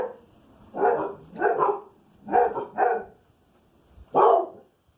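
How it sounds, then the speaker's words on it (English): Dogs bark close and loud in a kitchen setting: about five sharp barks, mostly in quick pairs, with short pauses between them and no talking. "once you add some dog barking"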